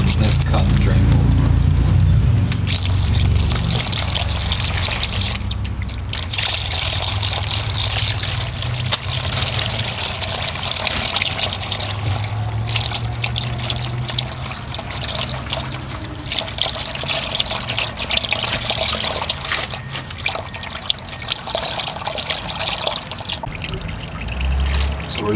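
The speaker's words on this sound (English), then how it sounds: "We're just going to keep letting this drain until it's completely out." Engine oil draining from a Kia Sorento into a catch pan, a continuous close trickling, splashing pour that runs steadily throughout with minor shifts in intensity.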